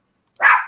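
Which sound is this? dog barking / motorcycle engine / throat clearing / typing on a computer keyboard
dog barking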